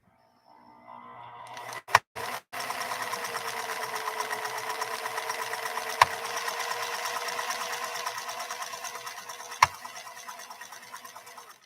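A PFAFF 332 sewing machine runs steadily, its needle mechanism chattering in a fast, even rhythm for about ten seconds after a couple of sharp clicks at the start, close and moderately loud, with occasional knocks and no talk.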